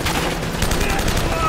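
An M4 rifle fired in the Uncharted video game: rapid, dense automatic gunfire, loud and continuous throughout, with a voice mixed faintly under the shooting.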